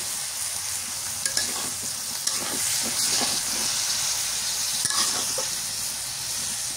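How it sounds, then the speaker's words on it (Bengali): Potatoes and banana stem added to a frying pan in a village kitchen and stirred, giving a continuous hissing sizzle with scraping stir strokes, close and fairly quiet. "এবার এই যে আলু আর কলার থোরটা দিয়ে দিই"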